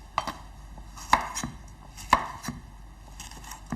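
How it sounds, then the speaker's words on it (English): Peaches being cut into eight pieces each with a knife on a board, giving a few distinct close chops spaced about a second apart over a quiet background, without any talk. "I'm really just taking each peach and cutting it into 8 pieces."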